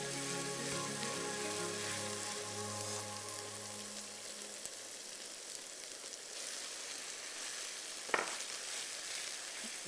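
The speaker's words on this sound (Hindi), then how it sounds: "दही डाल के भी अच्छे से भुनाई करेंगे" Spiced minced meat sizzles and fries in a pan with yogurt, a steady crackling hiss with broadband spatter throughout and one sharp clack near the end; no one speaks.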